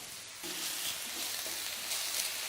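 Oil sizzles and hisses steadily in a pan as chopped onion and spices fry, with faint scraping from stirring. No voices.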